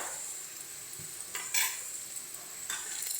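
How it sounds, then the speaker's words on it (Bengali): Green chili paste and ginger paste being stirred in a hot pan, a soft steady sizzle with a few faint scrapes of the spoon and no voices. "ভালো করে মিশিয়ে নেব মশলাগুলোকে"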